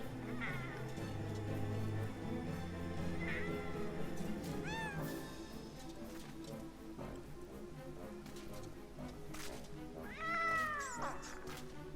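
Cats meowing in the video game MediEvil, several distinct meows with rising and falling pitch over a steady game backdrop, clearest near the middle and a longer call toward the end.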